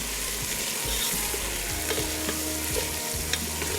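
Green chillies with salt and garam masala powder frying in a pan for palak gosht pulao, a steady close sizzle with intermittent stirring knocks, no talking.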